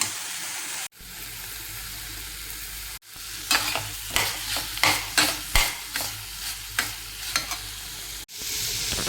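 Carrot halwa with fried dry fruits being stirred in a pan, a run of rhythmic, close scraping strokes over a soft sizzle, framed by brief breaks in the sound.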